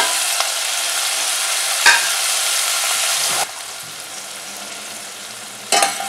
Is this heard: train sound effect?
no